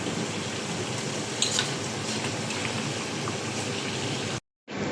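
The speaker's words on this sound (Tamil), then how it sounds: "இதையும் நல்லா டீப் ஃப்ரை பண்ணிக்கலாம்" Zucchini deep frying in hot oil while cooking chicken maklubha, a steady close sizzle and bubbling with a few brief spikes, cutting off abruptly near the end.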